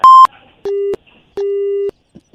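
Telephone busy tone after a prank call is cut off: loud, clean beeps, one short higher tone followed by two longer lower tones with silent gaps between.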